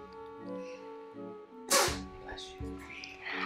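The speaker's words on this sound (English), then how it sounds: "You sneezing here?" A single sharp, loud sneeze from a person breaks in midway over quieter background game music, followed by lighter noises and a voice.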